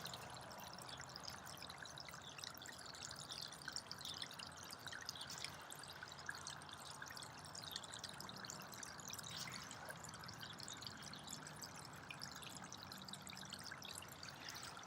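Faint, steady water trickling and pouring in a garden fish pond, a soft continuous splashing heard from a short distance with no talking.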